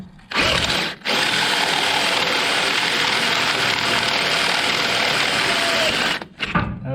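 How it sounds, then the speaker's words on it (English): A power drill whines continuously for about five seconds boring a half-inch hole during Datsun 521 mini truck steering work, starting after a brief blip and stopping abruptly near the end. "got to drill out 1/2-inch hole"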